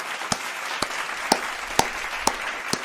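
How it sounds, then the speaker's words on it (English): Crowd applause played as a sound effect, a dense wash of clapping with a few sharper claps standing out at a regular beat, moderately loud and steady throughout. "The Iceman said put the applaud music on there"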